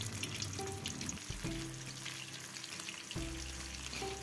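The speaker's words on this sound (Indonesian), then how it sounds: "Jika semua tahu sudah kita isi, tahu siap kita goreng." Stuffed tofu filled with aci (tapioca-flour batter) fries in plenty of oil over low to medium heat, giving a steady, close, dense sizzle and crackle with faint stirring or utensil touches now and then.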